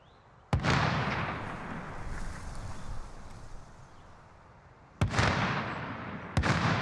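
Gunfire in an online shooter video game, three sharp loud bangs spaced a few seconds apart, each trailing into a long rumbling, echoing decay with wind-like noise between.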